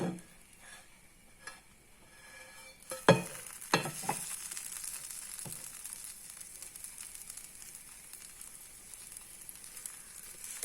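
An oats dosa sizzles gently on a hot pan after being flipped, with a few sharp clinks and scraping taps early on, then soft continuous frying.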